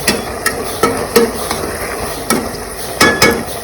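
Veg biryani mixture being stirred in a pot, a spoon scraping and knocking against the metal in irregular clinks over a soft background hiss, with no talk.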